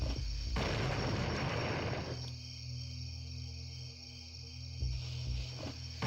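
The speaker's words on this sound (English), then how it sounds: "Can you hear the explosions?" Heavy explosions and gunfire-like booms from the shooter game Blood: Refreshed Supply, loud and continuous, with a dense blast around the start and rumbling blasts repeating through to the end, no speech.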